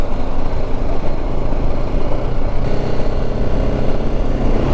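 A loud, steady engine drone of vehicles riding along a road, rumbling continuously throughout with no talking.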